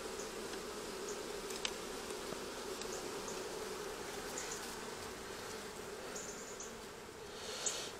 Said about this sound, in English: I'm going to have a quick look at the bees, they look fine